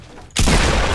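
A single loud, close gunshot in Fortnite erupts abruptly after a quiet moment, its blast and rumbling tail sustaining to the end.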